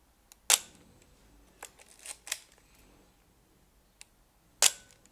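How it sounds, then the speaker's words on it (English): A Yashica TL Electro X film SLR shutter fires twice with crisp mechanical clacks several seconds apart, with softer clicks and handling noises between them in a quiet room. "The only thing that I really want to mention about this camera, it's its shutter sound."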